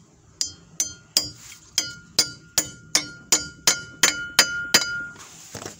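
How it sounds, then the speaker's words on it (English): Wheel bearing being hammered into place on a Ford Transit: about a dozen sharp, ringing metallic strikes at a steady rhythm, close and loud, with a bright clinking ring after each blow. "So what we'll do is we'll hammer that on."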